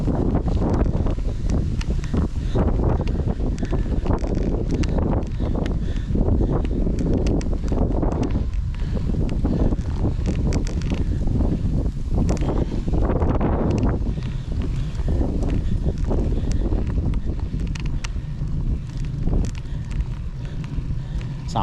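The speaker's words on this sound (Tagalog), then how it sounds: "Kasama yung hangin ba yan?" Strong wind buffets the microphone continuously on a hike up Mt. Datun, a loud, roaring, gusting rumble with people's voices mixed in.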